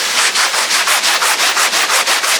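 Gritty, rhythmic rubbing of contamination off the paint of a neglected Lexus IS with a JDM body kit, a loud, sandpaper-like scrape repeating in steady back-and-forth strokes, close and alone.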